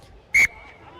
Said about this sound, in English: The whistle as time has been called off.